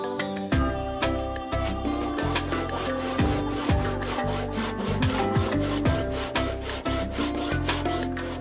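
A hand saw cuts through wood in steady back-and-forth strokes, close and loud, the rasping rhythm continuing for several seconds with no talk over it, during outdoor building of a lean-to carport.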